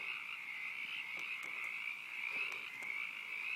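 A frog croaks steadily in a continuous, loud nocturnal chorus, a dense buzzing trill that holds without pause, with a few faint clicks and taps scattered through it and no voices.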